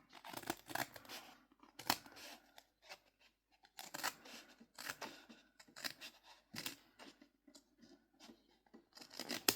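Scissors snipping through a paper envelope in repeated close, crisp cuts with rustling paper between them, no talking.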